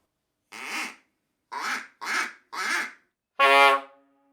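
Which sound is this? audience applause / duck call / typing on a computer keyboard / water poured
duck call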